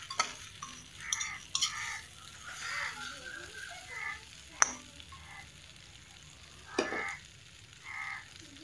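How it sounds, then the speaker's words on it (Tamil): Kothu idli being stirred in a frying pan, quiet sizzling with intermittent scraping stirs and a few sharp clicks of the spatla against the pan, faint and close. "நல்லா கிளறி விட்டுருங்க ஒரு 2 நிமிஷத்துக்கு அப்படி கிளறி விட்டுருங்க"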